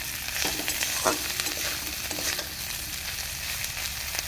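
Potatoes fry in a pan with salt, giving a continuous close sizzle broken by intermittent scraping stirs and light knocks against the pan.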